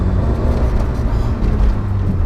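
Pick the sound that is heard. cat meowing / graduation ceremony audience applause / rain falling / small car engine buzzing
small car engine buzzing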